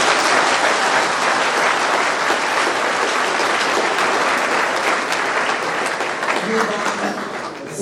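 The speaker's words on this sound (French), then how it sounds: "Applaudissez-vous." Audience at a graduation ceremony for a training course applauds loudly and continuously, a dense sustained clapping that eases slightly toward the end.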